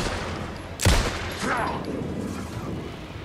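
Gunfire in the video game Alan Wake 2: one sharp, loud burst near the start, followed by a quieter rumbling tail and faint background game noise.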